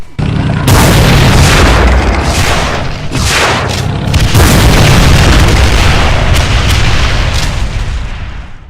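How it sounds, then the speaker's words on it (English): Hexa shotgun blasts against a Mancubus tank variant in a modded Doom game, with loud, dense booming bursts repeating almost without pause over a continuous roar of explosive gunfire. "A single hexa shotgun blast can take out more than half of its health"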